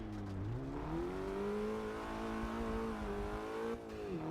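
A car engine in Forza Motorsport 6 revs hard and climbs steadily in pitch, holding a loud, sustained whine near the limiter before easing off briefly and pulling again.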